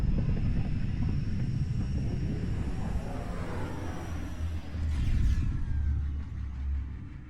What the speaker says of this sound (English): Descent engine engaged.